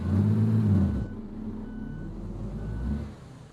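Beeping from a bus in Euro Truck Simulator 2, a low tonal beep pattern heard over loud engine rumble that drops to a quieter idle hum after the first second, alone with no talk.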